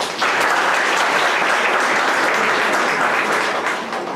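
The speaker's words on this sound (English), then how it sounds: "we welcome her by a round of applause" A university audience welcomes a speaker with applause: loud, dense, even clapping that starts abruptly and holds steady for several seconds without voices on top.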